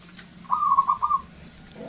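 A perkutut (zebra dove) gives a short rhythmic cooing phrase of soft, quick pulses, fairly close, against a quiet background.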